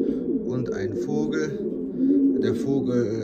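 Racing pigeons coo in a soft, repeated rhythm, several low throaty calls close by, with a person talking over them.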